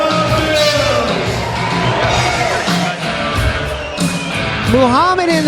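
Fight night crowd screaming, yelling and cheering loudly all together in an arena, a dense continuous roar with whoops rising near the end.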